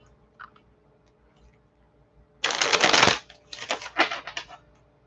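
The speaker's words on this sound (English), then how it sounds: "I'll shuffle for you." Tarot cards being shuffled close by, a quiet pause followed by two short bursts of crisp riffling and flicking, the second broken into several quick flutters.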